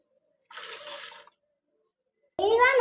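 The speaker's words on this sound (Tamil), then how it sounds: "நல்லா வாஷ் பண்ணு." Running water pours briefly while things are washed, and a voice follows after a short silence.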